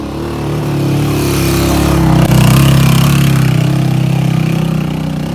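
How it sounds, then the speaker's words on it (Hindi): A motorbike engine approaches on a rough mountain valley track near Skardu, its steady mid-pitched drone growing louder and closer before easing slightly as it passes nearby. "एक बाइक वाले शहजादा आ रहे हैं।"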